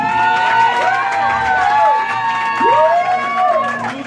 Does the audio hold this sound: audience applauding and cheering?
yes